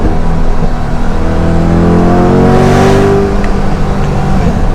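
A 2022 Chevrolet Corvette C8 convertible R Edition pulls hard at full throttle on a highway, its engine loud and close from inside the cabin, revving upward through short gears with one quick shift and no pause.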